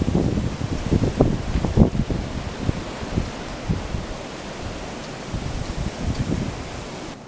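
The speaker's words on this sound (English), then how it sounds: "I think the biggest burst of wind might be over." Strong nor'easter wind on Christmas morning buffets outdoors in gusty bursts, a loud rushing roar with thumping microphone buffeting early on that eases into a steadier, fainter whoosh.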